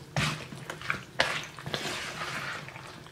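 Oxtail being mixed by hand with brown sauce in a bowl, giving wet squelching and stirring sounds in a few bursts, close and moderately loud with no talking.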